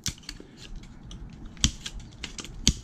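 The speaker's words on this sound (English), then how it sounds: "Snip out the fan." Scissors or snips cutting a fan out of an old computer, a few sharp metallic snips among small clicks and rattles of handling, close and alone.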